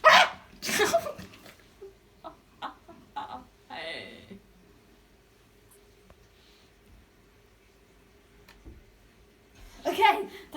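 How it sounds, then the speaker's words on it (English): A dog barks in short bursts amid a Christmas carol gathering, a few sharp yaps scattered across the scene between louder moments of voices and commotion. "Dog."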